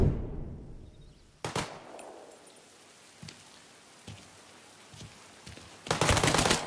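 Gunshots in Mafia III: a few sharp, separate shots spaced seconds apart, then a harsh burst of rapid fire at the end, with quiet stretches between and no talk.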